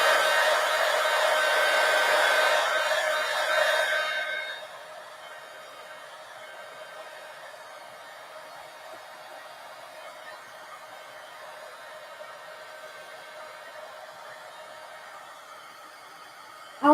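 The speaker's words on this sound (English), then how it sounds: "so let's dry this now," A hair dryer drying an art journal page blows loud and steady for about four seconds, then drops to a faint hiss for the rest, with no talking.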